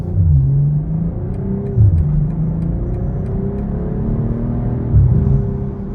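A 2023 BMW M440i Gran Coupe with rear-wheel drive and paddle shifters accelerates hard, its engine note climbing steadily in pitch with short dips at the gear changes, loud and continuous from inside the cabin.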